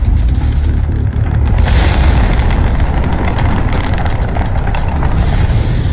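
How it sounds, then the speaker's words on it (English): Crimson Fleet ship weapons firing during space combat in Starfield: loud, dense, continuous roaring rumble with rapid repeated blasts ticking through the upper end, heavy and constant from start to finish. "that's a Crimson Fleet ship bringing its weapons to bear"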